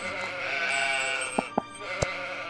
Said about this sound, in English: Sheeps are coming.